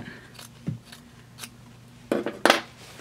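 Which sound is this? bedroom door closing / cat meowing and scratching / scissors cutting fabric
scissors cutting fabric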